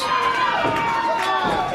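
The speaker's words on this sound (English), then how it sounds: "The crowd is erupting." Wrestling crowd at a variety show roars with sustained cheering and shouting, a dense, steady wash of voices filling the space for under two seconds.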